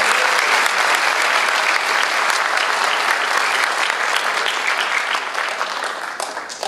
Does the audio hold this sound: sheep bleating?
no